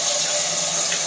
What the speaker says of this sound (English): If I turn the tap on,